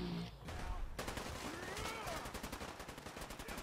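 In Fallout 4, gunfire rattles in a rapid run of shots aimed at a mutant hound. The shots are fairly faint and set among the game's ambient sounds.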